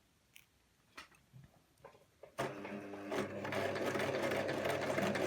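A sewing machine runs steadily for several seconds while stitching an A-line skirt, starting after a few quiet clicks and handling sounds. It is close and continuous.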